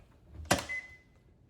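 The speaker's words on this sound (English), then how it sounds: "It beeped, so it thinks the doors are closed." A GE dishwasher door shuts with a single sharp thud, followed right away by a thin, steady electronic beep that fades out, heard close in a quiet kitchen.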